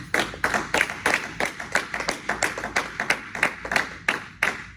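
A church congregation claps to welcome a pastor, a dense burst of hand claps in a quick, slightly uneven rhythm, loud and close with no voices over it.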